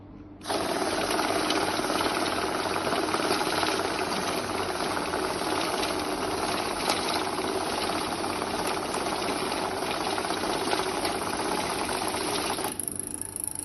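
A compact Plus Schwarz banknote counter rapidly riffles through a stack of Turkish lira notes, making a continuous dense fluttering whir that runs steadily for about twelve seconds, then stops abruptly.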